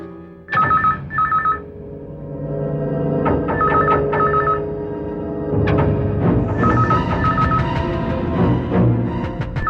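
A telephone rings in repeated electronic trills in a Hindi horror drama, loud and close, overlapping with a busy musical background throughout.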